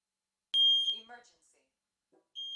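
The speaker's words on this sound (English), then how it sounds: "Alright, the smoke alarm is now sounding." A smoke alarm gives a loud, piercing electronic beep, then a second beep returns near the end, with a voice speaking briefly in between.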